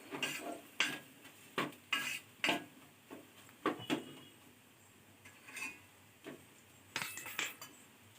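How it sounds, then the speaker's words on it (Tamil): A spoon scrapes and knocks against a pan while chilli powder is stirred into a kuzhambu, a series of sharp, intermittent clinks and scrapes at moderate distance with quiet gaps between. "நல்லா கிளறி விட்டுக்கலாம்."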